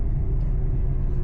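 Engine rumble from a 2015 Volkswagen GLI with a manual gearbox, driven slowly at about 15 mph, climbing one rev step: a steady, close, low drone with no voices.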